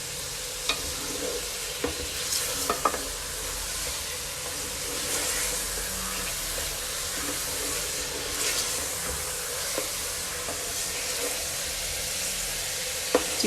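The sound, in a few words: chicken frying in oil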